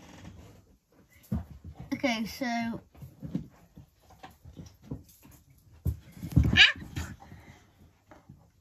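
A dog whines in a rising, wavering squeal for under a second, then gives a sharper high yelp later, wanting someone to play with its toy; people talk nearby between the cries.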